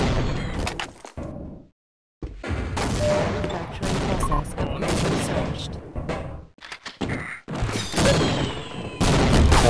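Rockets firing and exploding in a frantic video game firefight, a dense run of loud blasts and bursts broken by short silent gaps, with a voice talking over the chaos.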